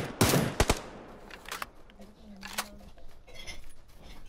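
PUBG gunfire in the Sanhok map: a couple of sharp, loud shots up front followed by fainter scattered reports, with a player talking in between.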